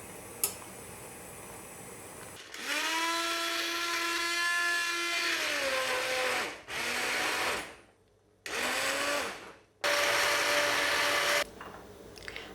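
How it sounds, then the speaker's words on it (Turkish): A blender purees a cooked purple carrot mixture with a loud, close, whining hum: one long run, then a few shorter bursts separated by brief pauses, with no talking. "bir tık kaynadıktan sonra blenderdan geçireceğim."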